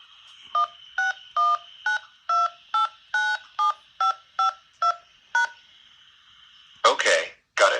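Telephone keypad DTMF tones entering a phone number, about a dozen short, evenly spaced beeps, followed by a brief burst of a voice at the end.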